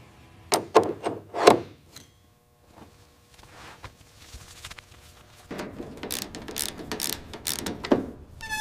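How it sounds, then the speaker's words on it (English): A torque wrench tightening bolts on a support panel of a 1948 Hudson car, with a few sharp ratcheting clicks followed by a quiet pause and then a busier run of clicks and metallic rubbing. "We use the torque wrench here to make sure these bolts are perfectly secured to the support panel."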